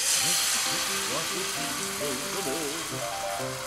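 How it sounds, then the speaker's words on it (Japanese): Steady sizzle of a thin egg omelette frying in a pan, a continuous bright hiss throughout, with a person talking over it. "じゃあまずは薄焼き卵を作ります。"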